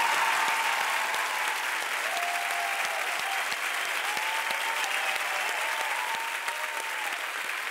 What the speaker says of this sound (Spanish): con un aplauso tremendo a una artista gigantesca